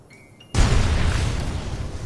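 A plasma grenade in Fallout New Vegas goes off after a brief quiet moment, a sudden loud blast whose rumbling, hissing wash holds and slowly fades over the next second and a half.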